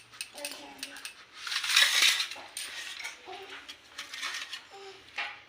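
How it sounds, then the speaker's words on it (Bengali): A knife halving boiled eggs makes light metallic clicks and taps against a plate or board, spaced irregularly, with faint clinking in between. "ডিমগুলো মাঝখানে করে কেটে নিচ্ছি।"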